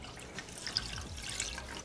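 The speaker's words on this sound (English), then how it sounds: "Next, we're going to add in 1 cup of vinegar." Vinegar is poured into water in a pot while making mango habanero hot sauce, giving a soft, faint trickling splash with a few small drips, close by and quiet.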